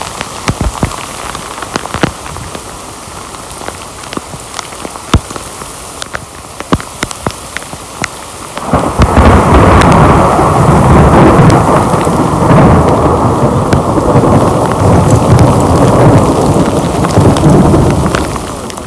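A thunderstorm in Idaho's Sawtooth Wilderness during a September backpacking trip: steady rain patters on surfaces with sharp crackles, then thunder rolls in and a heavy roar of rain and rumble builds loud and sustained to the end.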